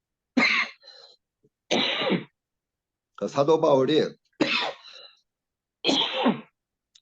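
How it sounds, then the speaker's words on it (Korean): A person suffering from a lingering cold coughs repeatedly, five harsh bursts spaced a second or so apart with throat clearing between them, close and loud against silence, while a few spoken words slip in. "기침을 제가 계속 하고 있습니다."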